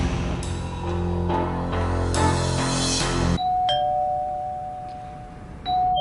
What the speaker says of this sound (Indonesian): ada yang menekan bel pintu